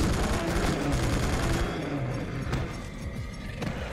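Rapid bursts of rifle gunfire in The Suffering video game, loud crackling volleys for a couple of seconds that thin into scattered shots and rumbling aftermath.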